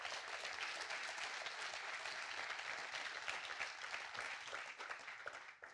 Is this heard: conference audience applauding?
yes